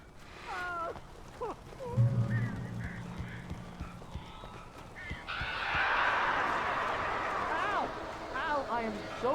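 Strange birds in Alan Wake Remastered squawk and honk in harsh, repeated calls inside a cabin, sometimes overlapping, with a voice speaking among them.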